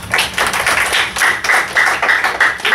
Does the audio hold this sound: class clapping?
yes